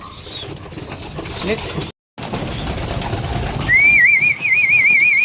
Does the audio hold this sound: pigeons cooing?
yes